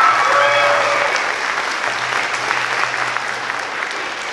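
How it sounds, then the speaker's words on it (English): Applause for middle school band players performing with the high school band at a concert, a full crowd clapping steadily and fairly loudly, with a faint lingering tone underneath. "so give them a round of applause"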